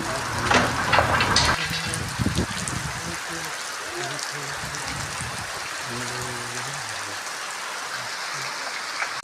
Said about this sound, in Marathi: खूप मुसळधार पाऊस पडतो आहे